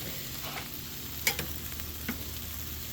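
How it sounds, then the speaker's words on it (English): Onions sizzle and fry in a pan, a steady close crackle with a few sharp ticks and taps, with no talking. "I'm going to let those onions cook."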